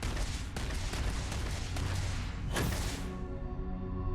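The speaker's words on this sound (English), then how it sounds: "What the flip is he shooting at? I can hear the report from over here" Heavy gunfire from a character in the Starfield sci-fi game, a dense roll of shots and booming reports, loud and sustained before tailing into a fading ringing decay, no voices.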